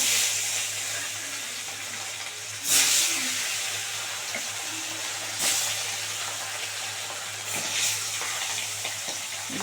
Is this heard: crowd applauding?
no